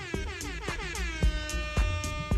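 A DJ air horn blasts in a rapid series of loud, brassy bursts, repeating with a stuttering rhythm.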